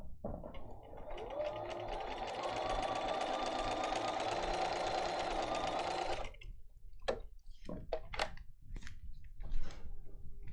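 Sewing machine stitching fabric over a paper template, a steady whirring run of about six seconds that stops, followed by scattered clicks and handling noises.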